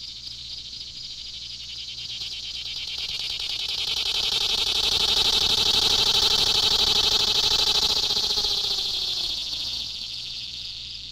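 A swamp ground cicada, Tibicen chloromera, sings alone in a loud pulsating buzz that swells gradually to a peak and then fades over about ten seconds.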